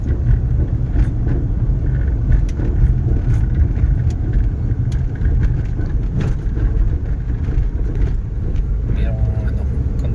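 A 1988 Honda CR-V drives on a road test, its engine and road noise making a loud, continuous low rumble heard from inside the car, with occasional rattles and a voice talking over it.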